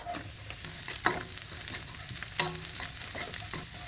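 Carrot sizzles as it fries in a pan for a napa cabbage and egg dish, with the pan frying steadily throughout and a few sharp utensil scrapes from stirring.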